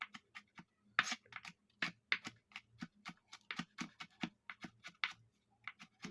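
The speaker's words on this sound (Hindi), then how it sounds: "इसको भी हम इस तरह छोटा छोटा काट लेंगे।" Knife chopping garlic into small pieces on a cutting board while preparing a raw mango chutney, a quick irregular series of close, crisp taps with no talk.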